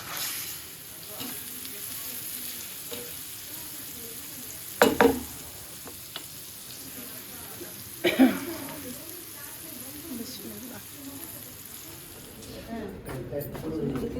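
Bottle gourd leaves with prawns fry in a pan with a steady, close sizzle, stirred now and then with a few sharper clatters, while people talk nearby.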